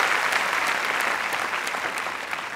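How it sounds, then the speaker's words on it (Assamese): An audience at an Assamese Christmas sermon claps hands steadily and evenly, a full, moderately loud wash of applause that holds throughout with little change. "ঈশ্বৰৰ মহিমাৰ কাৰণে হাত চাপৰি দিয়ক।"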